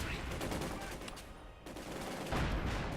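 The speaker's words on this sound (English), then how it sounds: "Maxim machine gun engaging the Panzer Grenadiers" Maxim machine gun firing on Panzer Grenadiers in a Company of Heroes 2 battle, heard as a dense, continuous clatter of shots with other battle noise, steady and loud for the full length, easing briefly midway.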